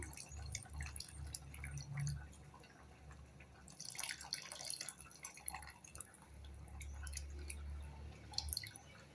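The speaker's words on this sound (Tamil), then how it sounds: "புளி தண்ணி ஊற்றுறேன்" Tamarind water poured into a cooking pot while making an okra kootu, a steady liquid splashing and dripping with a louder gush midway, close by and with no talk.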